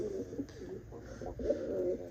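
Pigeons coo softly and continuously in a soft, low, murmuring chorus, close but faint, at a pigeon sale in Punjab.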